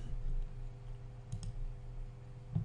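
Two quick mouse clicks on an on-screen X button to remove a routing rule in SysAid software, sharp and faint, over a steady low hum.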